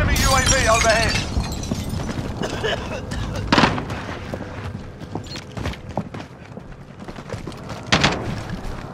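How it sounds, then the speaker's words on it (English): Cluster strike explosions in Call of Duty: Modern Warfare, a string of booming blasts and crackling impacts, with two sharper bursts standing out against steady battlefield noise and a voice talking underneath. "Cluster strike away."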